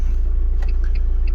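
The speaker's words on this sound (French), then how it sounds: "Donc là, voiture démarrée" A rental car engine idles after starting, with a loud, steady low rumble and a fast, regular pulse, plus a few faint clicks and higher tones over the top.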